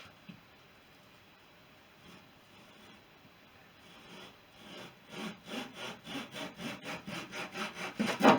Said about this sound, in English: With the trusty saw.